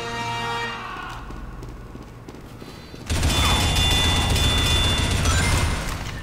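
Team Fortress 2 SMG fire bursts in loud and sustained halfway through, a dense rapid rattle of shots following a quieter stretch of game ambience.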